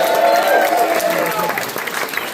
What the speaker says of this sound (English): One more round of applause for Erin.